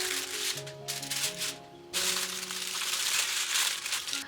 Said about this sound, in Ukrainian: Накриваємо фольгою для запікання.